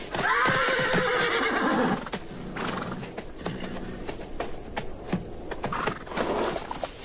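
Wild horses and foals neighing loudly in open country, a long high whinny dominating the first two seconds, then quieter snorts, hoof clops and scattered shorter calls from the herd.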